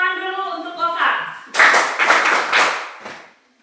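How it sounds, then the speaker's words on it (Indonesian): After a teacher speaks, a classroom of students breaks into loud, quick clapping for a classmate, several sharp bursts close by that fade out near the end. "tepuk tangan dulu untuk Oka"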